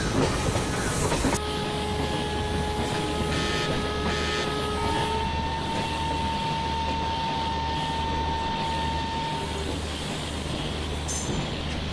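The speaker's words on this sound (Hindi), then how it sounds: "हमारे ट्रेन साइड वाला ट्रेन जो है ये धीरे धीरे इसका स्पीड बढ़ रहा है" A Bhopal Shatabdi train hauled by a WAP5 electric locomotive, simulated in the MSTS game, gathers speed with a steady rumbling roll, rhythmic wheel clatter and a rising electric whine, loud and continuous throughout.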